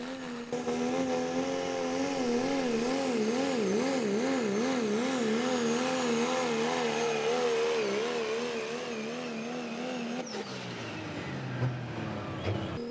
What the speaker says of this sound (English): What a run for the first truck down the track here tonight